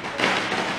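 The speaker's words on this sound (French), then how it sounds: "C'est des pétards." A firecracker goes off at a Thai temple, heard as a single dull, muffled thump within a noisy outdoor background.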